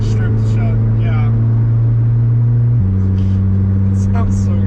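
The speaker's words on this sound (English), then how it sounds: "The exhaust sounds 10 times better with the top off." Honda S2000 with the hardtop off, its exhaust holding a steady, loud, low drone that steps down in pitch partway through, with faint voices over it.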